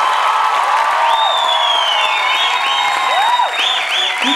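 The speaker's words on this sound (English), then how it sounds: "one huge round of applause for the living legend Shiamak Davar." A crowd at a dance show applauds loudly and steadily while sharp, rising whistles and whoops sweep over the clapping.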